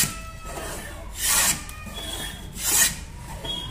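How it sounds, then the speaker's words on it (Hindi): Two rasping strokes of a homemade wooden hand plane shaving wood, each a brief bright scrape over a faint steady background hum. "अब हम इस लकड़ी के लगा के देखते हैं क्या सही से चल रहा है कि नहीं चल रहा है"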